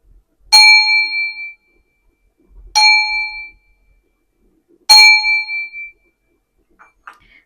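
Three clear strikes of a ringing bell, evenly spaced, each with a bright metallic tone that hums and fades over about a second.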